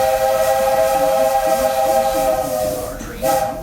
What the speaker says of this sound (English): Our train comes to a complete stop.